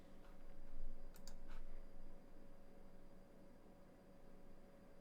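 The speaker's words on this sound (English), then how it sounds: "you hear the mouse clicks, huh?" Computer mouse clicks picked up by a condenser microphone during a live stream, a few faint quick clicks in a short cluster over steady background hiss, with no talk.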